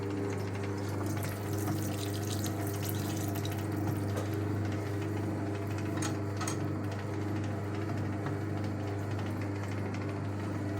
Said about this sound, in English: Wringer on. Get these towels through.